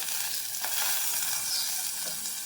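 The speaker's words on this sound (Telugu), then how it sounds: "వేయించేసుకుందాం కొంచెం కొంచెం దోసకాయ ముక్కలు వేస్తాం" Cucumber pieces frying lightly in a pan for a cucumber pickle, a steady bright sizzle close by with faint stirring scrapes and no talk.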